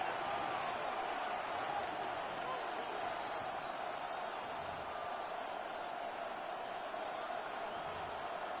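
A football stadium crowd keeps up a loud, continuous roar of noise, steady and broad throughout, with no distinct voices standing out.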